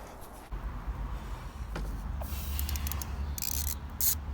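A ratchet clicks near at hand while 12mm bolts on a motorcycle fork are worked loose, short bursts of rapid metallic ticking over a low background rumble.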